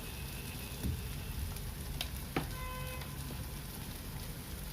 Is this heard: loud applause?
no